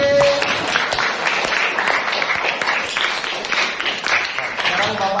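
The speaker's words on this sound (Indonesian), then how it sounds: "Tepuk tangan sekali lagi" Children in a classroom clap their hands together, a brisk cluster of sharp claps carrying on for several seconds, with a voice heard faintly at the start and end.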